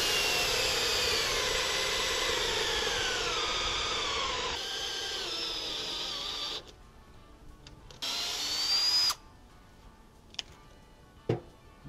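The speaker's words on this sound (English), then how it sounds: "now we just want to drill a 1/2 inch hole because our carriage bolts are 1/2 inch" A power drill bores a half-inch hole through deck bench wood for carriage bolts, a loud steady whine for several seconds that cuts out, then returns in shorter bursts with faint clatter between.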